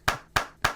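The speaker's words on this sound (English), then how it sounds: "Can I get a clap?" Three sharp hand claps in a slow, even rhythm, each a crisp close slap about a quarter second apart, with no talking.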